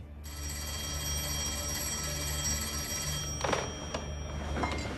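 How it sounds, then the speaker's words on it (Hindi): An old-style telephone bell rings steadily, continuous trilling over a low hum, with a few clicks and knocks near the end. "आपको फोन उठा लेना चाहिए"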